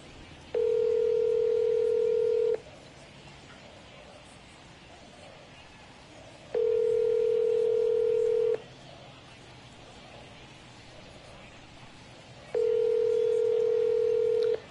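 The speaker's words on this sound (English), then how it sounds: "Let me call Kyle." Outgoing phone call ringing out, three steady long rings spaced about six seconds apart with quiet gaps between, clear and fairly loud with no answer.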